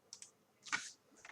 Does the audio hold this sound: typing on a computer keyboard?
yes